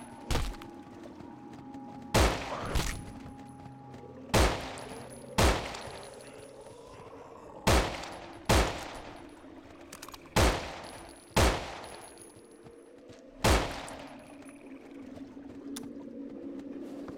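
Assault rifle shots in the zombie shooter No More Room in Hell ring out as about ten loud, sharp single cracks at irregular intervals, each with a short echoing tail, over steady game ambience.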